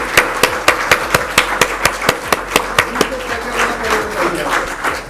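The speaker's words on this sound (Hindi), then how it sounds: "सभी लोग खड़े होकर तालियां बजा के स्वागत करेंगे रवि जी का।" An audience at a stock market trading seminar stands to welcome a speaker with sharp, evenly spaced claps in a steady rhythm, which then blur into looser clapping.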